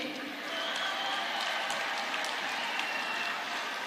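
Applause from the audience at a political address by a president. Dense, even clapping holds at a low, distant level throughout.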